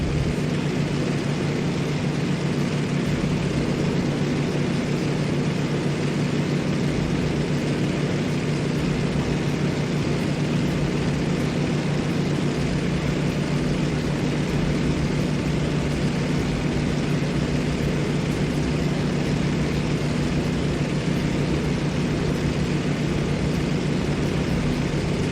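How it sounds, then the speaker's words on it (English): A WWII propeller plane in the Damage Inc. Pearl Harbor game flies past the Ford Island control tower, a loud, constant engine drone that fills the whole stretch without any clear rise or fall. "Give us a flyby of the Ford Island Control Tower."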